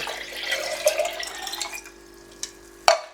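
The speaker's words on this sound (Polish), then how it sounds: "Wleję tutaj właśnie pół litra wody." Half a litre of water pours steadily for about two seconds while homebrewing an American amber ale from a kit, then trails off, ending with a sharp clink.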